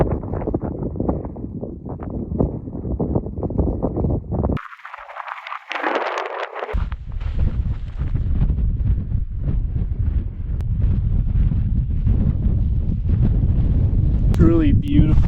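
Strong wind buffets the microphone at a high Colorado mountain pass on Elkhead Pass near Emerald Peak, loud continuous gusty roar with a brief lull midway, and a voice speaking over part of it.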